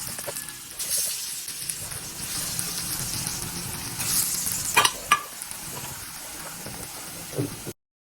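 Falafel balls frying in hot oil give a steady close sizzle and hiss, with a few sharper crackles and spatters partway through and no talk.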